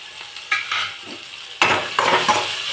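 Spices for dal, including cumin, chili powder, green chilli and salt, frying in a pan, with soft sizzling and several sharp scraping stirs of a utensil against the metal, close and fairly quiet.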